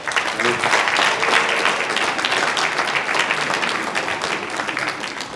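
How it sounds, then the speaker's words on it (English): Students at a senior recognition awards night at a high school applaud their parents, a loud, sustained burst of crowd clapping that carries steadily for over five seconds with faint voices mixed in. "let's give our parents a round of applause"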